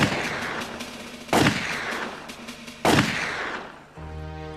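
Rifle volleys from a firing squad, fired on command, ring out as loud repeated cracks with long echoing tails. A second volley follows about 1.5 seconds after the first, and the sequence ends in a low rumbling tone.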